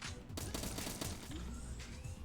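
Gunfire in Agent 64: Spies Never Die, a blocky retro first-person shooter. Rapid bursts of shots rattle in quick succession at a low, faint level.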